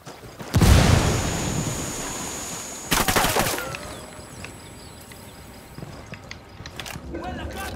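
A grenade blast and gunfire in the video game Ghost Recon Wildlands: a loud burst with a heavy boom, a second sharp explosive crack, then a lingering rumbling tail, all under game ambience.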